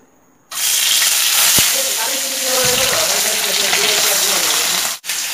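Pomfret fish hits hot mustard oil in a kadai and sizzles loudly and steadily after a brief quiet start, with a sharp clink and spattering crackle close by.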